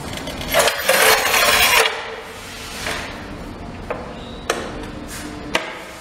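Floor tile being cut to size: a harsh scraping stroke up close, followed by several sharp, hard taps spaced about a second apart.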